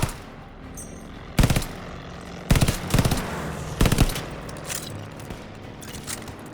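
Bursts of automatic gunfire in the shooter Call of Duty Vanguard: three or four sharp, loud volleys spaced about a second apart over a low battlefield rumble.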